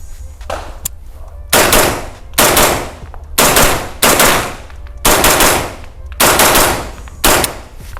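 An I.C.R.W. Berserker PCC rifle fires seven loud, sharp shots in a slow, fairly even rhythm, each crack trailing off into a brief echo between shots.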